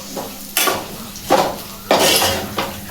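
Pepper chicken is stirred in a metal pan with a spoon. The scraping strokes fall in four clear, regular bursts over a faint sizzle while home cooking.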